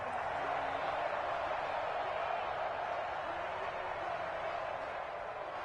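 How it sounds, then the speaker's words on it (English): A stadium crowd in the Madden 21 video game, Steelers versus Texans, makes a steady broad roar throughout with no breaks, moderately loud and even, and a faint commentary voice sits underneath. "Crowd getting in it a bit already."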